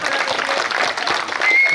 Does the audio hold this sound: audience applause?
yes